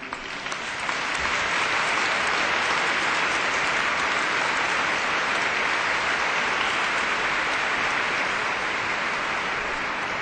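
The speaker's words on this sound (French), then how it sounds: "On peut les applaudir." A cathedral congregation applauds during the Feast of the Assumption service, dense sustained clapping filling the large space at an even level throughout.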